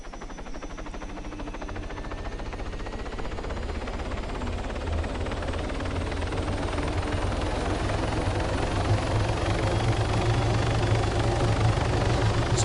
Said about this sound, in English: So let's get into the helicopter.